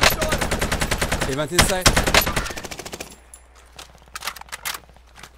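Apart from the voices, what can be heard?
gunfire in a video game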